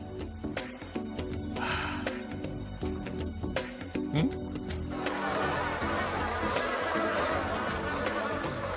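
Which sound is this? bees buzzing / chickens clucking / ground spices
bees buzzing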